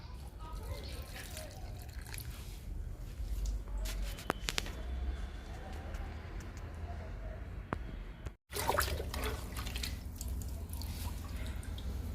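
Liquid fertilizer is poured onto indoor plants such as purple heart and tulsi, giving close, soft trickling and dripping water with scattered splashes and a brief break partway through.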